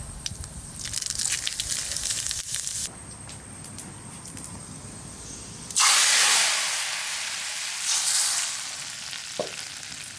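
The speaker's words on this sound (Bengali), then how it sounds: "খিচুড়ি ফোড়ন দেওয়ার জন্য সরষের তেল দিয়ে দিচ্ছি, শুকনো লঙ্কা, তেজপাতা, জিরা" Dried chili, bay leaf and cumin tempering in hot mustard oil for khichuri, first a crackling sizzle, then a sudden loud hissing surge as something hits the pan, fading to a steady fry with another swell, close and without speech.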